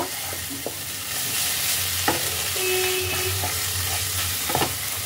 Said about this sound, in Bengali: এই সমস্ত মশলাগুলোকে এই পেস্টের সাথে ভালো করে প্রথমে মিশিয়ে নেব।